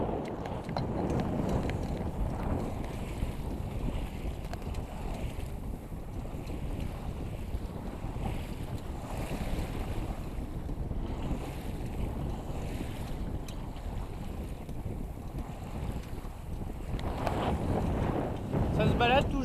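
A sailboat under sail on open water heading north, with steady wind buffeting the microphone and waves washing along the hull, a continuous close rushing wash with no talk.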